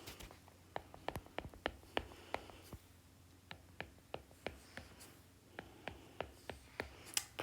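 A pen or pencil draws a shape on paper in quick, faint, close strokes, with short scratches and taps arriving in uneven bursts and brief pauses between them.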